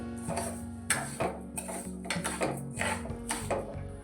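A spoon stirs sugar into ghee in a metal pan for sabudana caramel kheer, giving repeated close scraping and clinking strokes in an uneven rhythm over a low steady hum.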